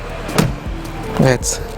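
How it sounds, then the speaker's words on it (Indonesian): A 2017 BMW X1 luxury SUV door swings shut with a few solid, dull thuds close by, while someone talks over them. "suara menutup pintu mobil mewah nih kayak gini."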